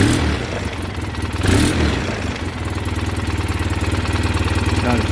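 Polaris 700 twin engine with a broken carburetor hose, running loud and close with a steady rhythmic idle and a brief rev surge early on, then settling back into an even throb.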